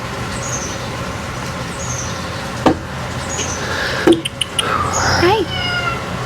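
Pet cat Phoenix gives a short rising meow close by in an outdoor yard, against a steady background of birds chirping and a few sharp knocks.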